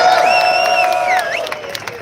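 A crowd cheers and whoops loudly at an outdoor reveal of the all-new seventh-generation Ford Mustang in downtown Detroit, with sustained shouts and scattered claps from many people.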